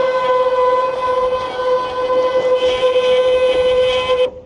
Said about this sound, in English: run the jacks up and down here